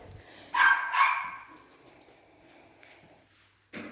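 A dog barks twice at mid distance near an abandoned cemetery chapel in Cherokee County, Alabama, two loud close-set barks followed by quiet outdoor ambience and a brief sharp sound at the end.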